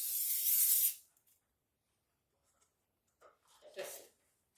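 A short burst of seal spray from a can onto a flat baking tray, a sharp hiss lasting about a second, followed by quiet and a few soft handling noises.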